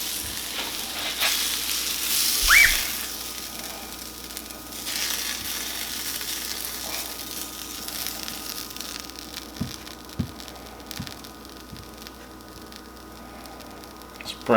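Steady sizzling of bologna and cheese frying in a pan, a soft continuous crackle with a few clinks and scrapes of a utensil.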